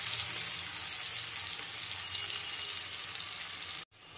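Tomatoes fry in a hot pan while being stirred, a loud steady sizzle filling the whole stretch before cutting off abruptly near the end, with no voices.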